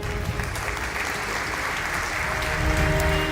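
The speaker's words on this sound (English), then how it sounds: "Round of applause, ladies and gentlemen." A large audience applauds at a stage event, a steady wash of clapping from many hands that holds for several seconds and swells slightly toward the end.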